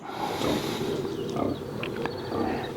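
Pigs grunt and squeal over a constant noisy barnyard din where chickens live alongside them, with a few short higher calls mixed in.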